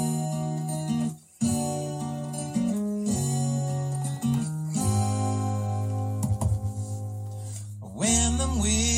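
An excerpt of a ballad from the album Unlimited Love plays as sustained, steady music with a few brief dropouts and shifting held notes.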